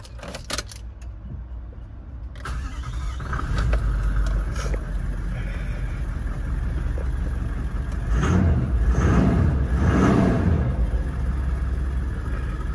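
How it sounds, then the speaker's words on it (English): A 2021 Toyota LandCruiser GXL 70th Anniversary has its keys jangled and twisted, then the engine cranks and catches into a deep, steady idle rumble close by that swells a couple of times, with no voices. "Now to start the vehicle and go through the accessories for you."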